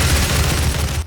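Rapid gunfire from the DOOM video game, a dense burst of booming shots over about one second that cuts off abruptly.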